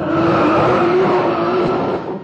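A loud drag racing car engine roars at high revs, a sustained close blast that fades slightly at the end.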